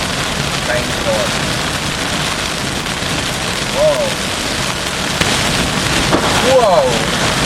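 Heavy rain pours during a Florida summer storm, a steady, dense roaring wash that runs throughout with gusty surges, while a man exclaims now and then over the downpour.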